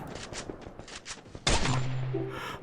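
Rapid bursts of video game gunfire in a Thai-language shooter, a string of quick shots in the first half, then a sharp loud blast at the midpoint followed by a sustained ringing tail.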